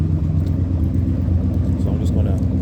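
A dual Flowmaster FX exhaust on an Oldsmobile 98 rumbles steadily at idle, a deep continuous low burble close to the tailpipes with no pauses.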